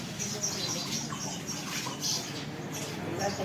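Sparrows chirp around their nests among neem trees near a water stand, giving faint, scattered high tweets over a steady background murmur of people and outdoor noise.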